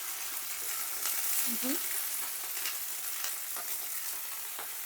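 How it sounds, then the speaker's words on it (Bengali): Cauliflower florets fry in hot mustard oil in a wok, giving a steady, fairly loud sizzle with occasional stirring scrapes throughout, no talk. "তেলটা ভালোভাবে গরম হয়ে গেছে এবার আমি ফুলকপিটা এতে দিয়ে দিচ্ছি দিয়ে একটু ফুলকপিটা একটু ভেজে নিতে হবে"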